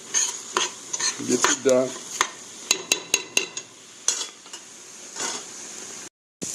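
Onions frying and sizzling in a pan while a utensil stirs and scrapes them, a hiss running under clinking strokes, with brief speech.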